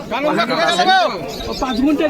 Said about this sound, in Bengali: এই হচ্ছে এক পেয়ার নাপতা কবুতর সারাংপুরি